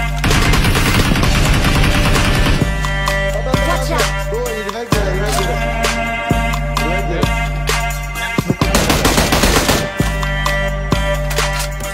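Loud, close bursts of shotgun fire from PUBG Mobile, played on the Livik map, form a series of sharp, heavy blasts spaced a second or two apart, with a dense rapid volley at the start and game music underneath.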